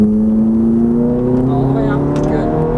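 Ferrari F430 F1 engine pulling under throttle on a Los Angeles track, a steady rising drone with a clear harmonic tone, close and loud beneath a driving instructor's continuous talk.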